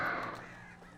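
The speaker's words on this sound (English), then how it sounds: "That's a lot of birds." Several crows caw loudly in the game Alan Wake, harsh overlapping calls that fill the clip and slowly fade toward the end.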